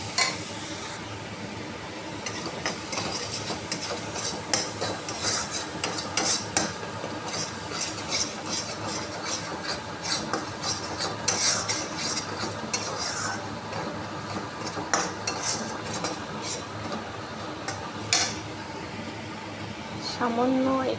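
Dry ground spices are stirred into korma masala in a pan, giving a quiet, continuous sizzle with frequent scraping and clinking of the spoon, and a voice talks over it at times.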